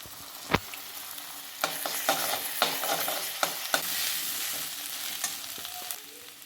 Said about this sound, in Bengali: এবার আমি এখানে 1 চামচ আদা রসুন আর জিরে একসঙ্গে বেটে নিয়েছি, আমি দিয়ে দিচ্ছি